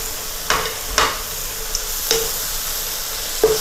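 Chopped walnuts frying in a pan over medium heat give a steady soft sizzle, broken by a few sharp clicks and scrapes of a utensil stirring against the pan.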